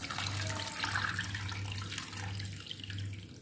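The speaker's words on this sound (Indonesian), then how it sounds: "Sekarang kita tambahkan air sampai ayamnya ini terendam." Water is poured steadily into a pot of chicken while cooking Balinese ayam betutu. It makes a continuous close rushing splash over a low background hum.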